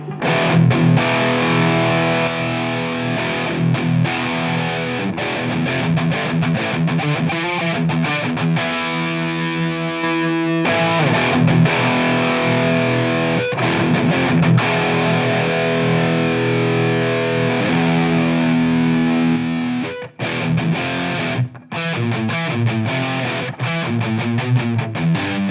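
Distorted electric guitar through a Bogner Shiva KT88 amp with its shift knob engaged, played loud and continuous as heavy metal riffs and sustained chords, with short breaks near the end.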